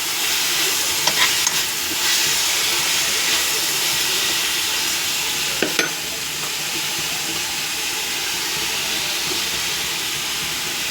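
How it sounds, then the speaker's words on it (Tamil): Spinach greens poriyal with grated coconut cooks on a stove, giving a steady, close hiss and sizzle. A couple of faint utensil taps break through early in the steam-like noise. "இதில் கொஞ்சமாக தேங்காய் பூ போட்டு ஒரு 2 நிமிஷம் ஸ்டவ் மேலே வச்சு இறக்கிடலாம்"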